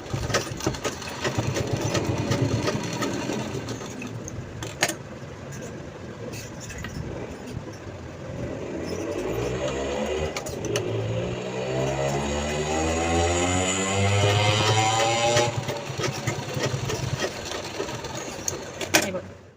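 Sewing machine stitching the corners of a pouch made from old denim jeans, a steady whirring run that speeds up and slows down, close and loud, with brief pauses between stretches of stitching.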